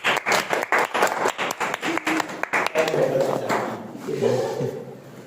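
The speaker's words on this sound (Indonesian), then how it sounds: "Kasih aplaus dong" Classroom applause from students during a lesson, a burst of brisk, closely spaced claps that fades out after a few seconds, with murmuring voices continuing underneath as it dies away.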